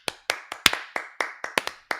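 Sparse, sharp hand claps, about nine separate smacks spread unevenly over two seconds, crisp and close with no voices; a thin, tongue-in-cheek applause effect rather than a full crowd.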